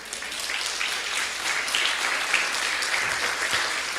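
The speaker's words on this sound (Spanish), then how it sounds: "Denle un aplauso al Señor." Congregation applauding the Lord in a church service, a continuous, even roar of many hands clapping at moderate volume, filling the whole stretch with no speech over it.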